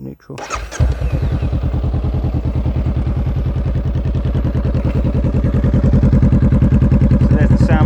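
A 2019 Honda Rebel 500 motorcycle starts up and settles into a steady, deep, bassy exhaust idle with a rapid even thumping pulse, loud and close, with no voices over it.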